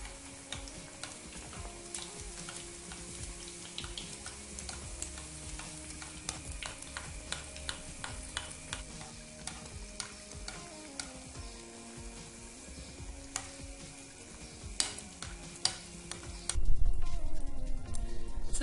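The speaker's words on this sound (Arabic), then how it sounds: "نطيبو وحده بوحده ونبقاو نسيبو عليها الزيت باش كتجينا باش كيتنفخوا" Pieces of mjebna dough frying one at a time in oil, with a steady crackling sizzle full of tiny pops and occasional sharper ticks, continuous and fairly close, swelling louder near the end under a background of music, no talking.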